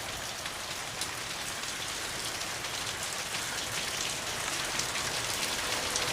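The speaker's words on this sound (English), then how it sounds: "As you can see, it's raining, right?" Steady rain patters on a surface, a constant even hiss with no voices or other sounds.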